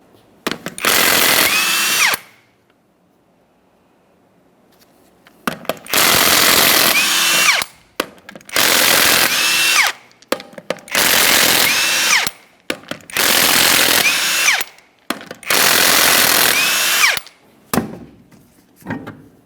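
Pneumatic impact wrench zipping off 21mm lug nuts from a 2004-2008 Ford F-150 wheel, loud close rattling bursts of one to two seconds repeated about six times with short pauses between.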